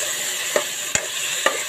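Ginger-garlic paste sizzles steadily in hot oil while a spoon scrapes the pan three times, with sharp clacks breaking through the constant close frying hiss.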